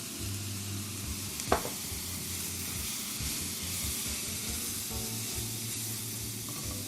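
Cumin, coriander and galangal root sizzling steadily in a hot pan with a constant frying hiss, broken by a brief scrape of stirring near the start.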